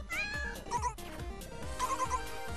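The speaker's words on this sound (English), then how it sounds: "Oh wait, it's that cat." Cat meowing in the rhythm game Mad Rat Dead, several clear rising and falling meows over a loud, steady musical backing track with a thumping beat.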